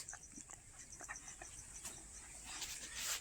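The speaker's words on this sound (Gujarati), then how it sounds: "કૂતરો અત્યારે આ તમે જો ગેલે ચડ્યું છે" A playful dog pants and whimpers faintly at a village farm where buffaloes are tied, with quick breathy puffs and small whines over a hissing outdoor background.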